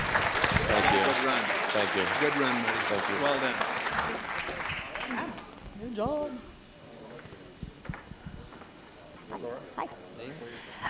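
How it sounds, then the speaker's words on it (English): An audience at a college of auctioneering student auction claps for a Nebraska auctioneer, a dense burst of applause that tapers off after several seconds into talking and scattered sounds. "how about a round of applause for this Nebraska auctioneer?"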